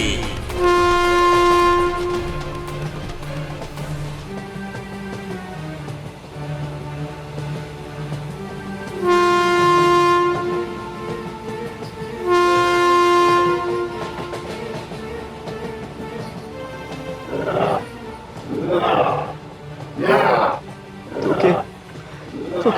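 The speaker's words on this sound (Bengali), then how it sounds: "ওই দেখ ওই দেখ ট্রেন আসছে" In an animated cartoon, a train horn blares in long repeated blasts as the train draws near a station, rumbling louder, with voices talking over it toward the end.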